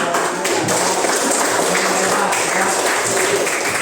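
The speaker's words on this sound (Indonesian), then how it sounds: "Itu tadi adalah kuis ya, tepuk tangan dulu." A primary school class claps together after a quiz, giving a steady, dense patter of many hands that is fairly loud and holds evenly for a few seconds.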